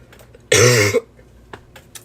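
A single harsh cough, close and loud, lasting about half a second, followed by faint breathing and small mouth sounds.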